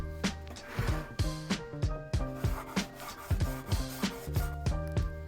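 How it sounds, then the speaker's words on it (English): Sandpaper rubbed back and forth by hand across a wood cabinet panel, a steady rhythmic scratching with regular strokes, close and clear. "I come in and slice off the excess from the top and bottom of the panel and hit it with some sandpaper"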